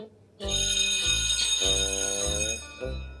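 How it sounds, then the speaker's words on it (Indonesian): A break-time bell rings in a Roblox prison game, a steady bright electric ringing that lasts about three seconds over a low pulsing game tone, with no talking. "bunyi bel itu."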